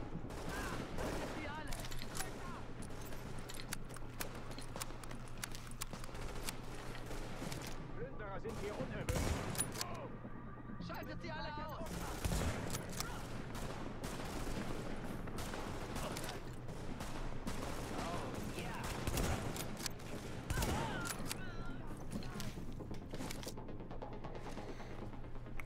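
Gunfire in The Division video game during street fighting: repeated bursts of automatic fire and scattered single shots at moderate distance, with bits of game voice chatter and a steady low background hum.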